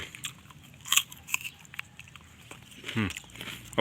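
Crunchy fresh dates from a date palm orchard bitten into, giving a few short, crisp crunches with pauses between them, fairly close and quiet, with no talking.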